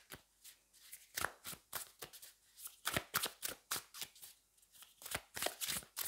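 High-quality tarot cards being shuffled by hand, a run of crisp riffling bursts repeating in a steady rhythm, close and clear with no talking.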